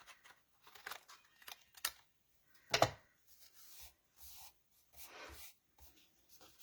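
Scissors trim a paper note card: a sparse series of soft snips and paper rustles, close and quiet, with one sharper cut standing out among them.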